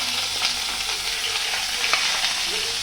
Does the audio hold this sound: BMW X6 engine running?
no